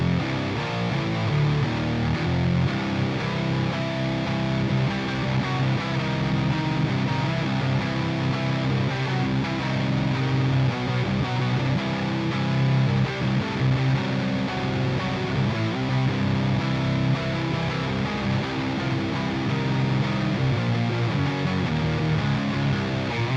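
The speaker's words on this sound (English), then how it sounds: "Then the Thunderclaw, my favorite sort of fuzz distortion, fuzz overdrive, whatever you want to call it." Electric guitar played through a Thunderclaw fuzz overdrive pedal gives a loud, thick, continuously distorted tone that rings on without a break for over twenty seconds, with no talking.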